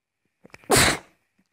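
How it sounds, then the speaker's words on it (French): A single person sneezes once, close and loud, with a couple of quick preparatory breaths just before the sharp burst, in an otherwise quiet room. "J'éternue."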